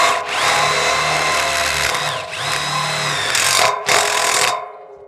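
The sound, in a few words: power drill pre-drilling into wood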